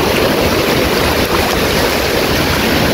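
A loud, continuous wash of rushing water and wind noise, like surf breaking nearby, with no clear pauses.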